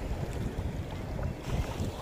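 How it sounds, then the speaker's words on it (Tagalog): Sea waves wash and slap against a person standing in the water, a loud continuous rush with wind buffeting the microphone and surges around the middle and end. "hinahampas na ako ng alon."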